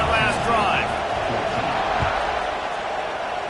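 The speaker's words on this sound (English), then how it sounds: "this crowd is feeling themselves after that last drive" A football stadium crowd roars steadily through a kickoff in a close college game, a dense wash of cheering and shouting that stays loud and unbroken, with a few brief whistle-like cries rising above it.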